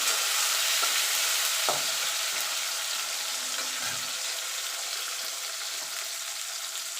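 Tomato frying in a pan for an okra and poppy-seed curry, a steady close hiss of sizzling oil with a few soft stirring scrapes against the pan, with no voices.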